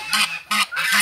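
A broody female duck sitting on a clutch of chicken eggs gives three loud, nasal honking calls in a rough rhythm, close by and with no other voices.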